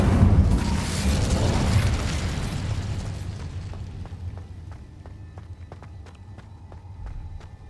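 An Incendio fire spell in Hogwarts Legacy bursts with a loud, roaring whoosh that slowly fades, followed by scattered light clicks and footstep-like taps.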